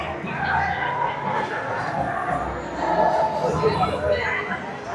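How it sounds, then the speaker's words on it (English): A spring-break crowd at a Universal theme park murmurs in a steady, dense wash of chatter, with nearby voices talking over it. "So this is the crowd here."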